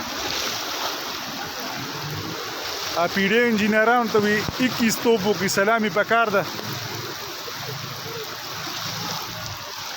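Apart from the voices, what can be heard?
heavy rain with floodwater flowing in Peshawar street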